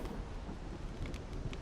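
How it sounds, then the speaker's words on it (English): Steady rain falls in the Solarpunk video game, a continuous broadband hiss with faint low rumble, a few brief brighter spatters near the end, moderately quiet and without voices. "Oh, it's raining."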